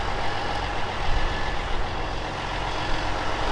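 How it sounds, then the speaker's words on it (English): A 21-year-old wheel loader, or loading shovel, fitted with smaller wheels, runs with a steady low engine drone close by. Reversing beeps can be faintly picked out over it, with no talk. "that is the new loading shovel"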